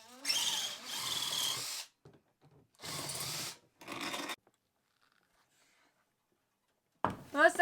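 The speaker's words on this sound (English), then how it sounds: "Now we're going to unscrew the AC from the inside so that the whole unit is going to come out." A power drill unscrews an RV air conditioner from inside the vehicle, with several close whirring bursts of a second or so each, separated by quiet gaps and small clicks, then a final short run.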